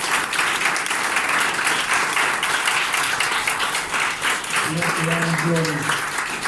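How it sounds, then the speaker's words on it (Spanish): Church congregation applauding during a Saturday worship service, a steady wash of clapping throughout with voices and a brief tonal sound rising over it near the end. "Dale un aplauso al Señor."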